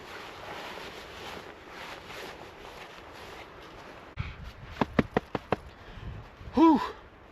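Cold morning wind blowing outdoors on a spring overnight camping trip in rugged terrain, a steady broadband rush that fills the first half, followed by a few sharp knocks and a brief louder sound near the end.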